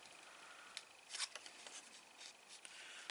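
Faint snipping and crisp rustling from scissors cutting partially die-cut paper cardstock into snowbank shapes, with several quick cuts clustered together among soft handling noise.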